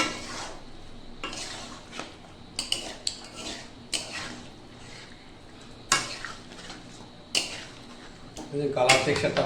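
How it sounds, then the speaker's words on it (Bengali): Chicken korma with capsicum is stirred in a pan with a utensil, mixing the masala through the meat in a home kitchen, giving intermittent metallic scrapes and clinks against the pan over a low sizzle. "এবার ভালো করে এটাকে মশলাগুলো সমস্ত মাংসের সঙ্গে মিশিয়ে নেওয়ার পর"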